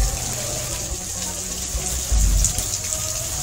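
Water pours steadily from a cow-mouth (gaumukh) spout at Neelkanth Dham temple in Poicha, a continuous splashing gush with a brief louder surge near the end.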